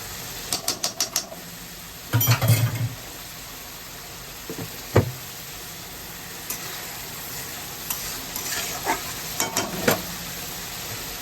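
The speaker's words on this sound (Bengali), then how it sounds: "এই দেখো অল্প আমি ঘি দিয়ে দিচ্ছি।" Ghee poured into a hot pan while cooking a Bengali fish curry, with sparse sizzling and a few loud scraping stirs and clatters standing out against a quiet background.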